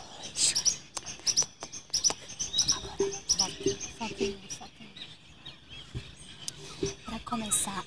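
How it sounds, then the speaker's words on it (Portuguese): Birds sing outdoors in nature with bright, repeated chirps and tweets scattered throughout, fairly soft and close, over a quiet background of faint rustling. "Ao som dos pássaros."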